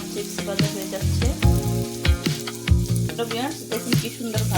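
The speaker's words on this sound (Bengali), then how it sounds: "দেখুন কি সুন্দর ভাজা হয়ে যাচ্ছে" Homemade sun-dried chips bubbling in hot oil give a continuous close sizzle, broken by clinks of a utensil stirring and scattered crisp pops, with no voices.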